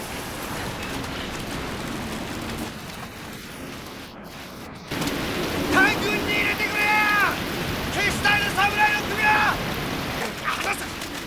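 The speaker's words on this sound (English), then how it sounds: "Rain pours down." Heavy rain pouring down in a war film scene, a steady broadband hiss throughout that grows louder partway through, with some tonal sounds mixed in over the downpour.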